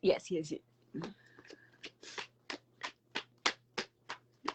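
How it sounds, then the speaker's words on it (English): A tarot deck shuffled by hand in a podcast setting: a short stretch of talk, then a regular series of crisp card riffles and slaps, about a dozen evenly spaced, close over a low hum. "I'm gonna shuffle these cards and see what comes out of these ones"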